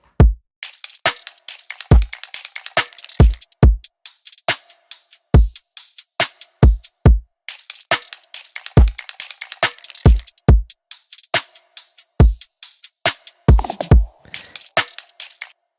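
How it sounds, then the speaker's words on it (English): Electronic drum loop at 140 BPM with punchy kicks, sharp snares and layered ticking hi-hat loops in a steady, up-tempo pattern, clean and close. "And they consist of a kick, a snare, and a couple layers of hi-hat loops"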